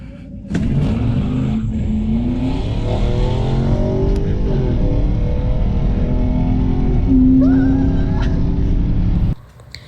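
A blue muscle car roars hard off the line in a drag race against a Tesla at a drag strip, its loud engine rising and falling through gear changes for several seconds before cutting off abruptly.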